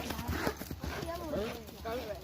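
A horse's hooves clip-clop at an irregular pace on a camping trail ride in O'Bannon Woods, faint and close by, while people talk over the steps.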